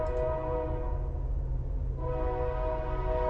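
Passing train sounding a loud, sustained horn with rich harmonic tones, briefly dipping and then resuming over the low rumble of the rail cars, close by and with no talking.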